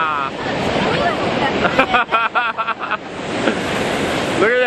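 Whitewater rapids on a Class 4 rafting run roar steadily and loudly near a waterfall, with wind buffeting the microphone and brief shouting voices rising over the rushing water midway.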